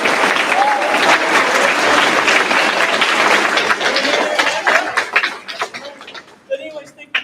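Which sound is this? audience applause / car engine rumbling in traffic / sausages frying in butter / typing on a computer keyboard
audience applause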